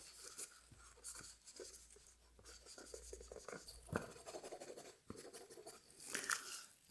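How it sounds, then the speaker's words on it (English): Pen writing down a measurement in a hushed ASMR setting, with faint, close scratching strokes mixed with soft whispering and light mouth sounds. "Let me just write that down real quick."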